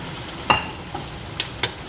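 Beef fries in a pot with a steady low sizzle, broken by a few sharp stirring clinks and scrapes, close by.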